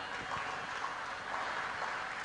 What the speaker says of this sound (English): Please keep on clapping.